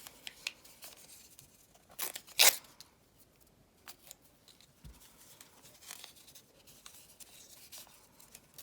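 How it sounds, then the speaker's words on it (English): Foundation paper torn away along a sewn seam line after machine stitching with a shortened stitch length: sharp, close ripping bursts with a loud tear near the middle, among soft rustling and crinkling, with no voices. "I'm just kind of folding back the paper along the seam line, and then it just tears right out."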